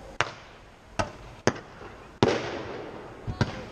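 Staged naval battle display with a battleship's 11-inch guns firing: five sharp, distant bangs spaced irregularly, each a sudden crack with a short rumbling tail, over faint outdoor crowd noise.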